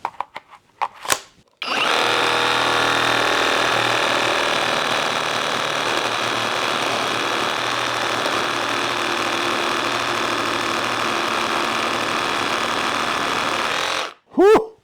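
A Flex reciprocating saw runs at 3,000 RPM on full oscillation, cutting in one loud, steady buzzing stretch of about twelve seconds, with brief clicks before and after.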